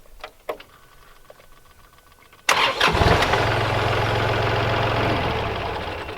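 A Kubota diesel tractor, recently stalled with air in its fuel line, gives a few faint clicks before the engine abruptly fires and settles into a loud, steady diesel idle that runs close by, with no talking.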